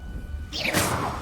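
A Confringo fire spell cast in the video game Hogwarts Legacy: after a quiet half-second, a sudden bright whooshing burst flares up and holds as a broad rushing blast that tails off gradually.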